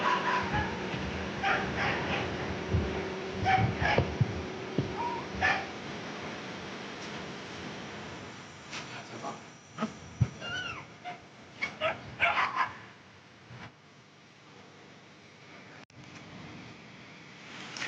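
Frightened dogs bound in hessian sacks with their mouths tied whimper and yip faintly from a stopped truck, a scattering of muffled cries over a low background rumble, with no speech.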